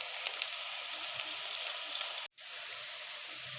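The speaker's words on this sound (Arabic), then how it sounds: "هجهز بقى كام فص توم وارميهم مع البصلة" Garlic cloves frying with onion in a hot pan, a bright steady sizzle that cuts out abruptly for a moment partway through, then resumes just as strongly; no talking.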